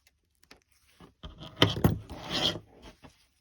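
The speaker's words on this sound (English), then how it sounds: "and then you just cut your ribbon" Scissors cut through ribbon up close, a short rasping snip and slide with a few faint clicks of the blades around it, quiet and alone.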